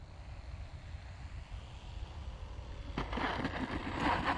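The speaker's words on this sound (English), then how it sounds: "And that is the perfect landing with this plane right there." EC 1500 twin-engine RC model airplane with landing flaps coming in to land, a faint steady drone that swells louder and rougher toward the end, with no talking.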